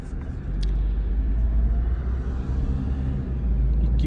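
A Chevrolet Cobalt with an automatic gearbox drives along, its engine giving a steady, loud low rumble from inside the cabin throughout, with gear shifts blending into the continuous drone.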